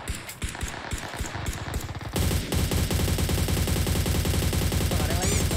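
Rapid machine-gun bursts crack out in PUBG Mobile, sparse single shots giving way to a dense, loud, continuous stream of automatic fire that dominates the scene.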